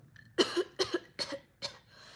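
A person deliberately fakes a loud cough as an imitation, giving four sharp, close hacking bursts in quick succession with brief gaps between them.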